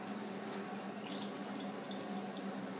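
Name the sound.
tap water rinsing the Innokin iClear 30 tank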